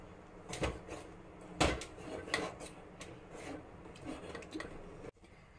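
Intermittent scraping and clinking of a utensil against a pot while mixing cooked bhajani chakli dough, quiet and close, in irregular strokes with a soft knock near the end.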